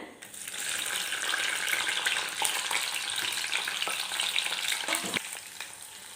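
Small onions and cinnamon bark crackle in hot oil, a loud, dense sizzle that runs throughout, broken by scraping and tapping strokes of stirring.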